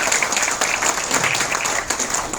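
A crowd claps loudly to welcome a Red Cross Society dignitary at a public gathering, dense continuous applause filling the whole stretch.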